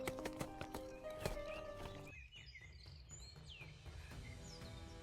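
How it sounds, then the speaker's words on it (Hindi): Horses in a fairy-tale stable yard, hooves clip-clopping in a steady stream as they are driven off, with birds chirping and tweeting throughout; no talk. "उसी दोपहर दोनों बहनें चुपके से बाहर निकलीं और घोड़ों को भगा दिया ताकि ब्यूटी और उनके बाबा महल जाकर"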